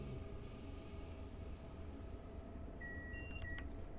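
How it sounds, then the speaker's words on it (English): A simulated train in Train Sim World 5 runs with a steady low rumble, joined near the end by a few short electronic beeps from the cab. "at least I can hear the sound of the train better like that"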